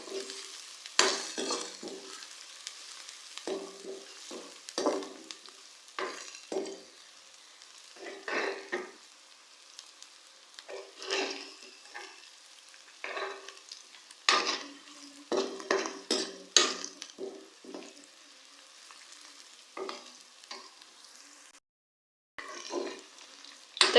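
Ginger garlic paste frying in a pan for fish fry masala: a quiet background sizzle broken by repeated bursts of scraping and clattering as a spoon stirs, close, with short gaps between strokes.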